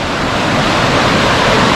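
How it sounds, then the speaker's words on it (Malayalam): Glacial meltwater stream flowing in Norway, a steady, loud, close rushing of water that fills the whole stretch without pause, with no voices. "മേളിൽ നിന്നും മഞ്ഞുമലയിൽ നിന്നും ഉരുകി ഒഴുകി വരുന്ന വെള്ളമാണ്"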